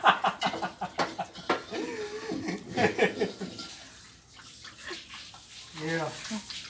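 Water splashes and runs while a wok is washed, with people talking and laughing over it; the running water grows steadier toward the end.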